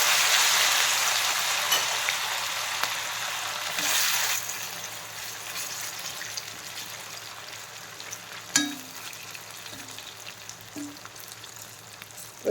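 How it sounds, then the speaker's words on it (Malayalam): Ivy gourd pieces fry in hot oil, a steady broadband sizzle that is loudest at the start and settles to a softer crackle. A few sharp pops and spatters break through near the end. "നമുക്ക് ഇതിലേക്ക് കുറേശ്ശെ ഇട്ട് പൊരിച്ചെടുക്കാം"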